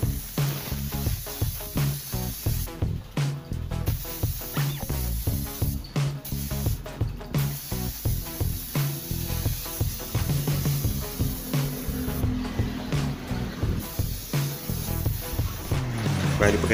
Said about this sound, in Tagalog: pagkatapos natin mag-spray ng top coat clear